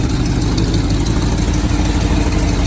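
A 1978 Chevy engine with no coolant runs loud and close with a steady, heavy rumble and no pauses.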